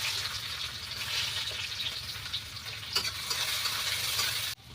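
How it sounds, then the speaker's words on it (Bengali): Chopped onion fries in a pan with a steady close hiss and sizzle, joined by soft scraping as it is lightly stirred, all quietly continuous without any talk. "হালকা করে একটু নেড়ে নেবো।"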